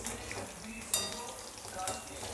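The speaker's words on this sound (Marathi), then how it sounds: "तीन ते चार मिनटं झाले आहे याला फ्राय होऊन आपली कोटिंग पण चांगली फ्राय झालेली आहे" Coated soybean chunks frying in oil, a soft, even sizzle with one brief utensil clink near the start, faint and close, with no talking.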